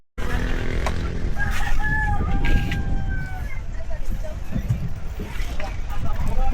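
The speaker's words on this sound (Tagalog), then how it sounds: "May manok." A rooster crows a few times in the distance on Cebu island, thin calls rising over a rumbling outdoor background while people talk nearby.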